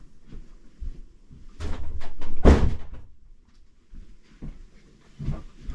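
An indoor door bangs and rattles repeatedly, a cluster of sharp thuds with one heavy slam in the middle, followed by softer knocks.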